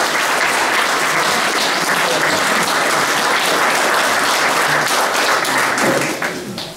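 Audience applause at a rugby club gathering, loud and dense sustained clapping from a large crowd that fills the clip and fades slightly at the very end.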